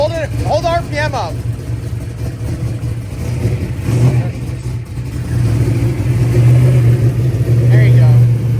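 An X275 race car engine revs and holds steady RPM, a loud, close mechanical drone rising in pitch toward the end, with voices speaking briefly over it at the start.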